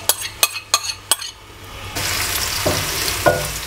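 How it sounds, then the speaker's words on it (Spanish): Chopped onion added to hot olive oil in a pan, a few sharp utensil clicks and scrapes, then a loud, steady sizzle as the onion starts to fry, close and without talk. "Cuando el aceite ya esté caliente, le vamos a echar la cebolla y la pocharemos con el fuego bajo."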